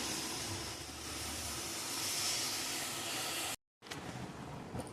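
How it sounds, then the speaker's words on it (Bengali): Heavy rain pours down in a dense, steady hiss that cuts out briefly, then carries on just as thick. "ঝমঝম করে বৃষ্টি পড়ছে আজকে মনে হচ্ছে সারাদিনই বৃষ্টি হবে"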